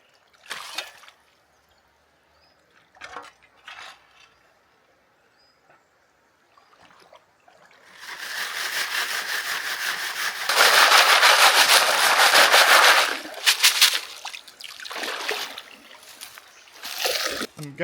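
Water splashes and washes over gravel in a creek as a gold fossicker in a wetsuit clears it out, starting with scattered short splashes, then building to a sustained loud rushing wash before breaking into bursts again.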